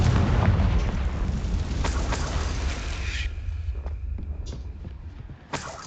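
Confringo blasting spell explosion in Hogwarts Legacy, a loud, close, rumbling boom that decays over several seconds, followed by a small sharp pop at the end.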